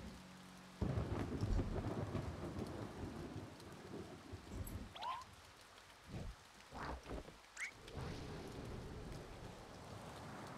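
A thunderstorm in the video game A Bird Story, with lightning strikes: steady rain hiss under several loud, booming cracks and rumbles, no voices.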